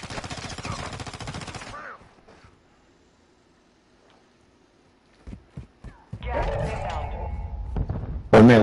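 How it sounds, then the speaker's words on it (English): Gunfire in the video game Warzone: a rapid automatic burst at the start, a near-silent pause, then scattered single shots building into another fast, loud volley and a final sharp blast. "I was getting shot at"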